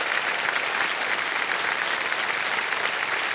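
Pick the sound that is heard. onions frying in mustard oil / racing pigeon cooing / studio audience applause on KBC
studio audience applause on KBC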